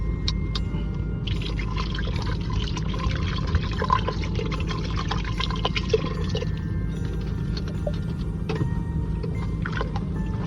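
Water gushes into 750 grams of basmati rice for biryani, about 1.5 liters poured in a long, close and steady splashing stream with gurgling swirls throughout.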